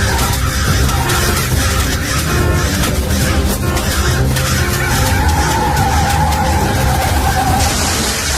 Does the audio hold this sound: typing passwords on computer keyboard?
no